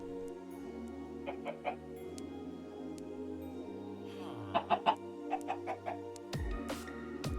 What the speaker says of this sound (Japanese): ここが養鶏所です。